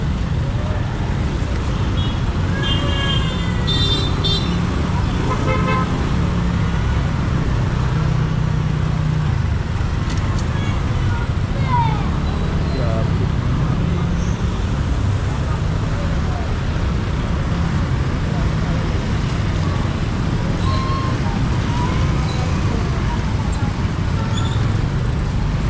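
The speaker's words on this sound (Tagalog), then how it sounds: "Traffic." Downtown street traffic in Zamboanga City, with cars, trucks and buses rumbling past in a continuous roadway wash, occasional horn-like tones rising briefly, and people talking nearby throughout.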